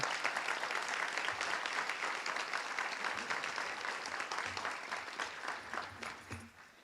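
Sustained applause from an audience for honorees at a town board meeting, a dense even clatter of clapping that slowly thins toward the end.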